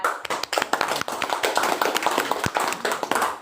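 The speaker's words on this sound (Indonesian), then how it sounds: "Tepuk tangan ya." Close, loud hand clapping from a small church gathering, uneven bursts of individual claps with a rough, pulsing rhythm and no voices over them.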